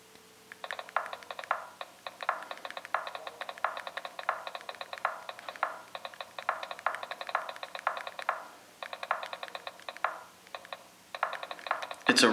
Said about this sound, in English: It's a really responsive keyboard. I like the clicking sounds that it makes.